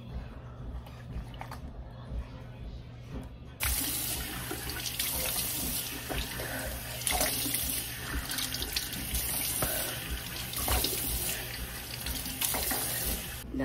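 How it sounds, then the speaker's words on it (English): Tap water runs into a sink for hand washing, starting as a quiet trickle and then swelling into a steady, full stream that continues without a break. "now it is time to wash my hands so I can wash my face"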